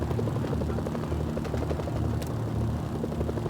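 A helicopter in the video game Mercenaries: Playground of Destruction gives a continuous, steady rotor thrum with engine drone. It stays close and fairly loud throughout, with no talk.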